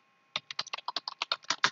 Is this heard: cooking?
no